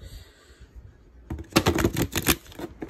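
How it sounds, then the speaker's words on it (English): A tarot card deck is shuffled close up after a quiet pause, giving a quick burst of crisp, rapid riffling clicks that lasts about a second. "let's shuffle the deck"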